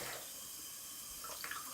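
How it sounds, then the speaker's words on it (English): Tap water rinses dye out of a synthetic wig ponytail, a soft steady running hiss, close but quiet, with faint splashy bursts near the end and no voices. "So I'm still going to keep rinsing it out until the water actually runs clear."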